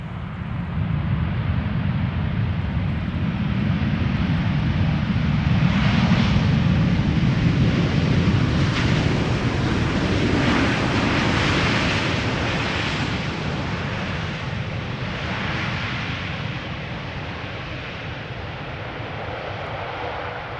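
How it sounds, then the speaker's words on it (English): KLM Boeing 787-10 Dreamliner arriving at Amsterdam Schiphol Airport, a broad, steady jet engine roar with rushing air noise that swells and slowly eases over twenty seconds, loud and continuous with no talk. "This is KLM flight 622 arriving from Atlanta, Georgia. 787-10 Dreamliner."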